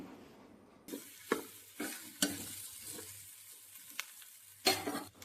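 Plantain pieces frying with onion in a pan give a soft, low sizzle, punctuated by a handful of distinct utensil knocks and scrapes as the mixture is stirred.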